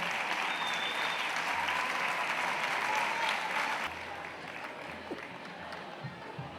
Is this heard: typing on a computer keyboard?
no